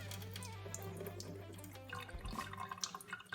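Water runs steadily from a kitchen faucet during a faucet replacement, a continuous splashing stream with drips. A low hum drops out partway through and the splashing gets brighter and more uneven.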